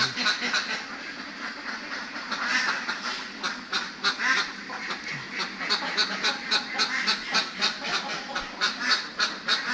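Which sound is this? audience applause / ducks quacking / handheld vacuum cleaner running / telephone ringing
ducks quacking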